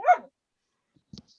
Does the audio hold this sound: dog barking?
yes